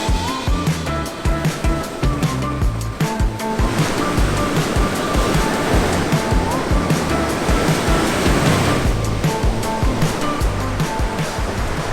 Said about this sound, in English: It's time to take a dip in the ocean.